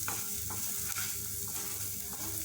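Capsicum and chilli flakes stirred in a hot pan for a homemade chicken pizza topping, a steady sizzle of frying under repeated scraping strokes of a spoon roughly every half second, close and continuous with no talking.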